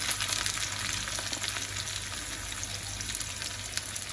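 Chopped onion and curry leaves fry in hot oil for bhajiya, a steady close crackling sizzle with a faint low hum beneath and no voices.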